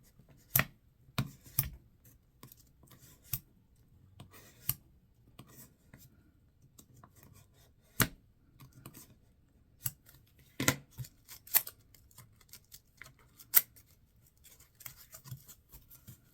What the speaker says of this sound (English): I'm just going to kind of keep on tearing it away.